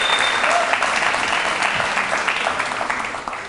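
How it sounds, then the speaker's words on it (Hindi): An audience at a televised debate with Swami Agnivesh breaks into sustained clapping, dense and steady throughout, easing only slightly toward the end. "ताली बजाओ"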